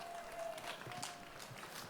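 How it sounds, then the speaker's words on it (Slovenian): Faint, distant applause from a festival crowd greeting a band and its frontman at an outdoor May Day event, a soft continuous patter of clapping with no clear voices over it. "En velik aplavz."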